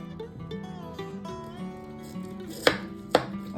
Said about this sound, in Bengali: পেঁয়াজটাকে কুচি কুচি করে কাটবো